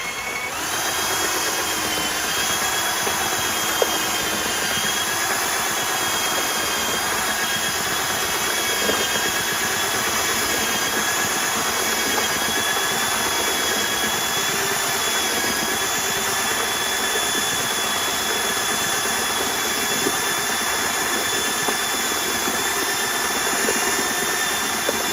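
A power mixer runs steadily, blending Phoscrete F3-VO repair material; a continuous motor drone with a faint whine holds at even loudness throughout, with no voices.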